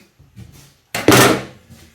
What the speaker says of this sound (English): Pantry door.